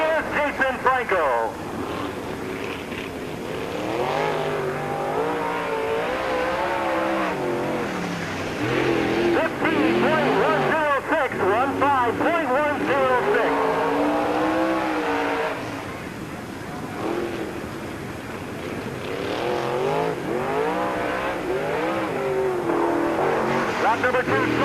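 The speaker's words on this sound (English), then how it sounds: "On the clock from Quincy, Illinois, driving car number 33 is Jason Franco." Race cars circle Peoria Speedway during qualifying laps, engines droning and swelling as they pass, while an announcer talks over the steady motor noise throughout.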